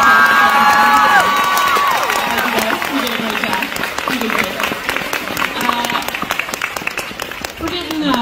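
An audience of about 2,500 breaks into loud applause and cheering, with shouts and whoops over dense clapping that gradually settles; a voice speaks over the opening moments.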